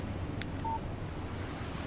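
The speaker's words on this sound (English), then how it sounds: "Text message from Barry." A text message alert tone sounds on a phone in the video game Alan Wake: one short, thin electronic beep near the middle, over a steady bed of wind and surf.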